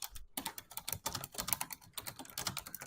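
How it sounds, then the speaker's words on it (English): Rapid, steady clicking of keys on a computer keyboard, close and continuous with only a brief pause near the start. "Are you typing them out?"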